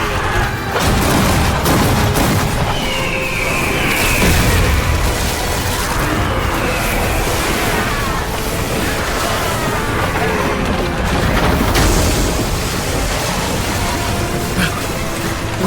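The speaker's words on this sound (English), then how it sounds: "Ready the Junyan Cannon!" Heavy booming blasts and explosive bursts fill a loud, chaotic din, with repeated deep thuds like cannon fire.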